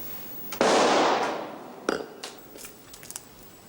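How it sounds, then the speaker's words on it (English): A single sharp, loud gunshot crack indoors followed by a long, bright wash of noise that fades, then a few softer knocks and thumps, in a television drama. "That was a gunshot"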